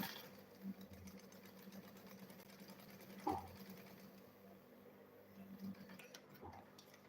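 A sewing machine stitches a double zip lunch bag, a quiet, steady rapid whirring hum with faint mechanical ticks heard up close.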